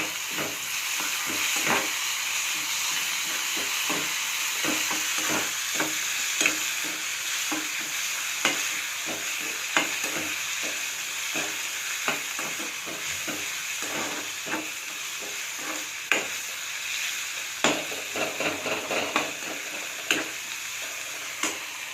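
Tomatoes fry and sizzle in a hot pan for prawn chutney, a dense steady hiss with scattered crackles and the occasional clink of a stirring spoon, close and continuous.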